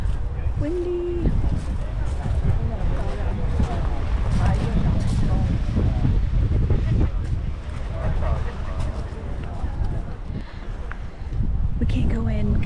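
Gusty wind buffets the microphone in a steady low roar, with voices talking faintly underneath throughout, outdoors in the Scottish Highlands near Kintail.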